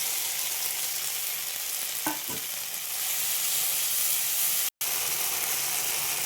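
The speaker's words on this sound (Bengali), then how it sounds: "দেখো তেল হালকা হালকা ছেড়ে দিয়েছে। মশলা কষানো হয়ে গেছে" A ground paste of cumin, ginger, garlic and chili fries in oil after browned onions, giving a constant dense hiss and sizzle with a couple of faint stirring scrapes and one abrupt instant of silence late on.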